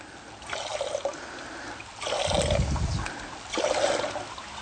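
River water passing through a hand-pumped group water filter used on expeditions, three rhythmic surges of splashing, trickling flow with a low thump at each stroke, close and fairly loud.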